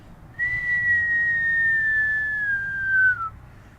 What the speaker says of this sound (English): As this is happening, you hear the high-pitched whistle,